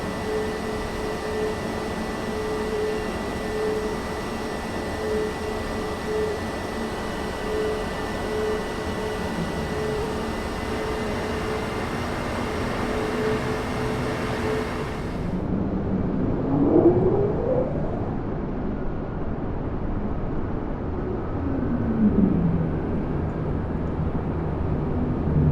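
Airliner engines winding down to reverse idle on the runway after landing in Microsoft Flight Simulator 2020: a steady broadband roar that drops sharply partway through, leaving a lower rumble with faint whines.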